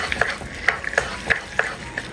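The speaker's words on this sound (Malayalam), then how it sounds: "ഒന്ന് ഇളക്കി കൊടുക്കാം." A spoon stirring roasted cashews and raisins in a pan, giving several light scraping taps at an uneven pace, close by.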